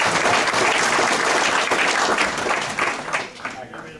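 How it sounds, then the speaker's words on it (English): A banquet audience at an awards banquet applauds in a dense, steady wash of clapping that fades over the last second. "So please give them a round of applause."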